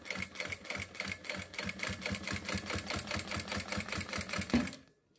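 A sewing machine stitches a seam on a synthetic leather wallet, a close, rapid, even mechanical chatter of repeated stitch beats that runs steadily before stopping abruptly near the end.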